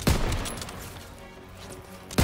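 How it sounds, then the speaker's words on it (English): Dense gunfire from a WW2 campaign battle in a video game, a sustained fusillade of rapid shots with sharp bursts at the start and end, loud and continuous. "I'm just shooting that direction."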